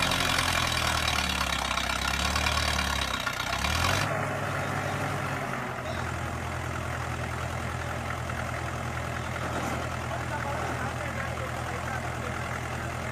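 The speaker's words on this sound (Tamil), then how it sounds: "பண்ணையில் டிராக்டர் உழவு செய்தல்." A Puthiya Bharatham tractor plowing on a farm field, its engine droning steadily and close throughout, with a shift in tone partway through as the load changes, while voices talk faintly in the background.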